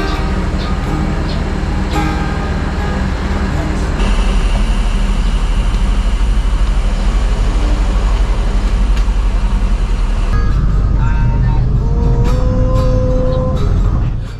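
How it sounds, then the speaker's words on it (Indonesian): An ANS executive-class coach with a Mercedes OH1526 engine and a Gran Turismo body by Morodadi Prima drones loudly and steadily from inside, a constant low engine and road rumble with shifting tones. "Bus ANS dengan kelas eksekutif ini bermesin Mercy OH1526 dan dibalut bodi Gran Turismo racikan dari karoseri Morodadi Prima"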